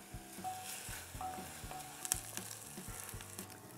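Half an onion sautés in olive oil in a pan, a soft, steady sizzle heard up close with occasional light stirring taps and scrapes, fairly quiet and free of speech.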